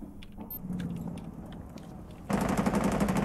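Rapid gunfire in a video game starts as quick scattered shots and then breaks into a louder, sustained burst of dense automatic fire near the end.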